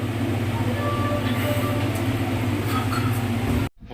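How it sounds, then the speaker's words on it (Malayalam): At a railway station, the Sabari Express, running from Secunderabad to Thiruvananthapuram, rolls past with a steady, close, rumbling clatter that stops suddenly. "എൻ്റെ ട്രെയിനാണ് പോയിരുന്നത്."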